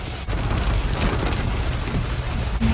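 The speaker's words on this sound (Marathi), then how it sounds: "पाऊस पडतो, तुफान." Heavy monsoon rain pours down around a car creeping through the Tamhini Ghat mountain pass, a dense, steady roar of drumming water that fills the whole stretch without pause.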